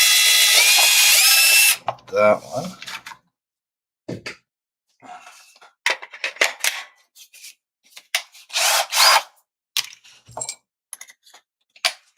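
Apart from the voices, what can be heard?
power drill drilling through the center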